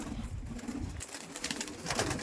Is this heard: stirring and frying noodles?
no